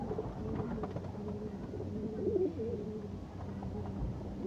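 Pigeons coo softly and low in a loft, a throaty repeated murmur over a faint background, with one clearer coo mid-way and no talking.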